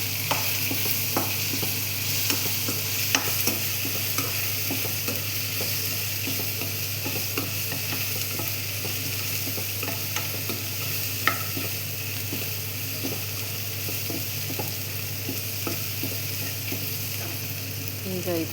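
Coriander and turmeric powder are stirred into spices frying in a pan, giving a steady low sizzle broken by regular scraping strokes of the spoon, close and continuous with no talking.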